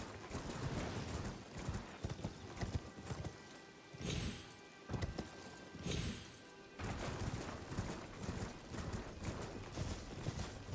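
Hooves of a horseback revenant in the video game Elden Ring clip-clop steadily in a rapid rhythm, mixed with heavy thuds and crashes that come and go, fairly close and loud, with no voices.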